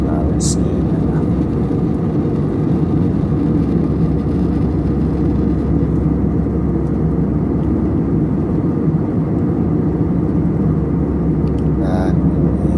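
A low, steady engine drone fills the airplane cabin on a Makassar to Palu flight. It is loud and unbroken throughout, with faint higher hiss and a couple of small clicks on top.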